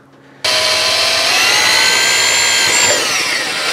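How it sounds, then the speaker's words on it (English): A power drill starts abruptly and whines loudly and steadily, its pitch wavering slightly as it bores upward into the underside of a 2001 Saturn SC2 for rivet nuts, close by. "I probably should be checking to see what I'm drilling up into, but I'm not."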